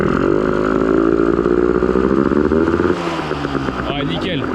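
A 125 cc Honda CRM motorcycle engine running again after ten years unused, droning loudly and steadily close by, then dropping to a lower idle as voices talk over it.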